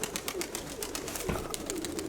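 Several pigeons in a loft of bred Ukrainian fancy birds, white with turned feathers, coo in a low, steady murmur that runs throughout, with a louder call near the middle and faint rustling and background noise around them.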